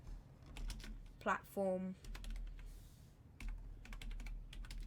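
Computer keyboard typed on in quick bursts of light clicking, close and fairly quiet, with someone speaking briefly partway through.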